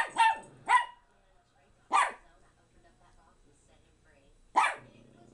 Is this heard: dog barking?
yes